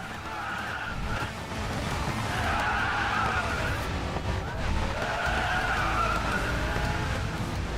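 Car tires power sliding in Racing Master on a 1500-horsepower hypercar at the Nürburgring, loud sustained tire squeal in long swelling waves over engine roar.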